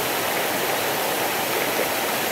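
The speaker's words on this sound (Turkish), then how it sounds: "Ətraf aləmdə çayın şırıltısından başqa" The Bilək mountain river in Yardımlı rushes and murmurs as a steady, dense, fairly loud flow of water, unbroken and with no other sounds.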